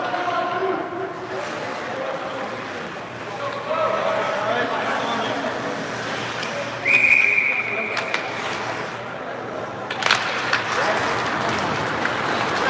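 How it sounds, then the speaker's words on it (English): A referee's whistle gives one short blast to stop play for offsides in a high school ice hockey game. It is heard briefly over steady arena crowd noise while a commentator talks. "they're going to whistle this dead right away for an offsides"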